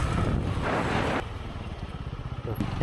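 A motorcycle rides a winding mountain road, its engine pulsing close and steady under rushing wind, with no talking.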